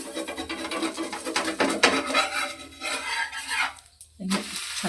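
A dosa cooks on a hot pan at home, giving a steady scraping, sizzling texture with rhythmic rubbing strokes and a brief pause near the end.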